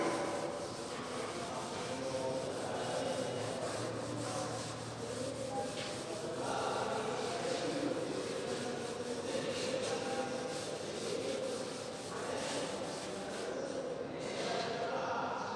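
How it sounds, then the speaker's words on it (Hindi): Hands rubbing together steadily, a dry continuous scraping friction lasting the whole stretch at moderate level, with no talk over it. "देखिए इसको मैं रब कर रहा हूं"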